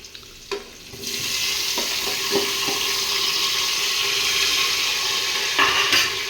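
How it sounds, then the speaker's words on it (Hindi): A sharp burst of sizzling as spices hit hot oil, then a steady loud crackle and hiss with a few clinks of a utensil stirring. "जी हमारी सब्ज़ी बन रही है, छौंक लगाया जा रहा है अब आराम से।"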